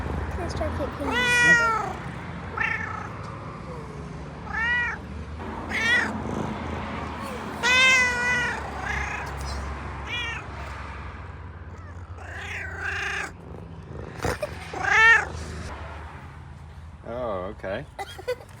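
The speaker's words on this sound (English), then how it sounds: "Loaded up with everything because Amika's found a cat" A cat meows repeatedly at close range in a campervan setting in the Dolomites, with short rising mews spaced through the clip and people speaking around it.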